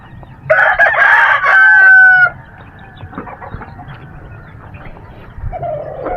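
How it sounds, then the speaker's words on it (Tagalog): Six backyard chickens cluck and a rooster crows loudly and close by in one long call near the start, followed by quieter clucking and scattered farmyard sounds. "Limang manok dito, tapos dito isa."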